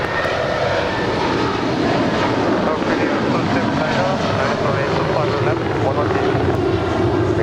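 A jet airliner takes off from runway 25 right at Los Angeles International Airport, its engines roaring loud and steady throughout, with an air traffic radio voice faintly under the noise.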